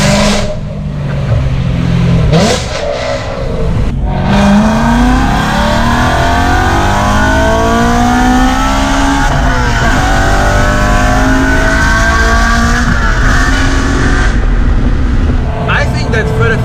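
A BMW M3 fitted with an Armytrix exhaust revs hard and loud, its engine note climbing and falling in repeated sweeps, close by and dominating throughout with brief voices in between.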